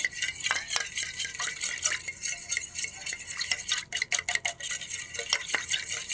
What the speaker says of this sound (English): grabbing a fork or a whisk, you just whisk this together